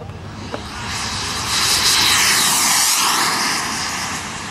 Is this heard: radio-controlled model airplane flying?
yes